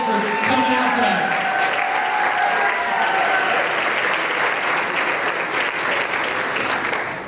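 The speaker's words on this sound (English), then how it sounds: "Give yourselves a big round of applause for coming out tonight" A crowd gives loud, sustained applause with cheers and whoops at a local dance competition, Dancing With The Piqua Stars 2019, a dense roar of clapping filling the room.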